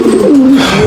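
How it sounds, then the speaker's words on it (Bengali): A male racing pigeon in a loft gives a single close, loud, throaty coo that rises and falls over less than a second. "এখানে একটা নর কবুতর"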